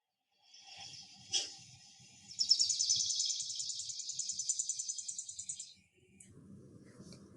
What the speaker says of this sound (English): Now let's hear the sound of sparrow.